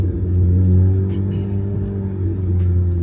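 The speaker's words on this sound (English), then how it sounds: "I'm like part throttle, like this much throttle, and this thing is like getting up and going." A Ferrari fitted with a Chevy engine pulls at part throttle, its deep, rumbling exhaust note steady and close, swelling slightly as it accelerates in traffic.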